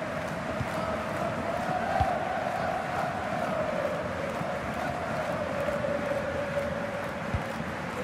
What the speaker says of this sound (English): it's a cracking atmosphere in here. The players just need to harness that energy from the crowd